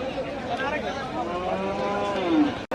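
A long, drawn-out cow moo rises and falls over the busy outdoor hubbub of a cattle market, loud and close, ending with a brief thump.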